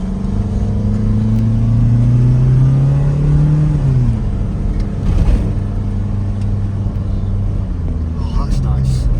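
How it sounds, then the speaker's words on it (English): Engine of an automatic Toyota Starlet EP91 revs up and falls back, a loud droning rise and drop heard at close range with someone talking over it. "That's a nice bit of revving."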